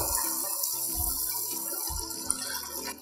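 Mutton stew is poured over the top of a dish in a kitchen, giving a close, gentle liquid pouring and dribbling sound with soft splashes throughout.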